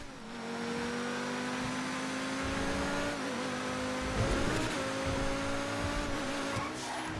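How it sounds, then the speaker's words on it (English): A car engine in GTA 5 drones at a steady pitch, then rises and dips through a few rev swells, loud and continuous with no talk over it. "Just the engine sounds so great."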